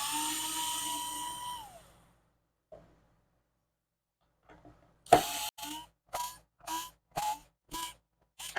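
A high-pitched power tool whines for about two seconds and then winds down, followed after a pause by a string of short, sharp bursts of a power screwdriver working the pickguard screws on a Fender Stratocaster guitar kit.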